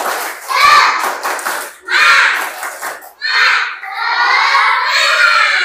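Indonesian schoolchildren in a classroom performing a tepuk semangat clapping chant, a loud burst of young voices chanting together in rhythmic phrases with claps mixed in.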